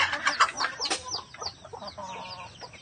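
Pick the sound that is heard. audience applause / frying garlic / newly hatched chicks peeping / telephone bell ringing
newly hatched chicks peeping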